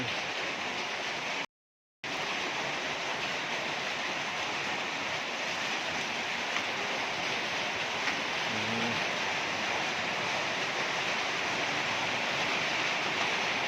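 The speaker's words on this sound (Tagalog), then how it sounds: "nalakas ang ulan." Heavy rain pours down steadily during Typhoon Carina, a dense, constant roar that holds without pause, briefly cut by a short dropout near the start.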